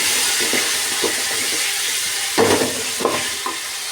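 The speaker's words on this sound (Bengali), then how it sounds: "মাংসটা দেওয়ার পর আমি এটাকে কষে নেবো ভালো করে একটু" Meat stir-fried in hot oil with onions in a pan, a continuous loud sizzle throughout, broken by a few scraping stirs and clinks of the spatula, with no talk.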